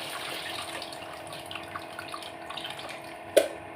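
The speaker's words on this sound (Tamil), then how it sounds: "நான் வந்து கொஞ்சம் புளி ஊற்றிக்கிடலாம் தான் பார்க்குறேன்" Tamarind water pours steadily into a simmering curry in a home kitchen, a continuous, close, soft liquid wash that ends with one brief sharp clink.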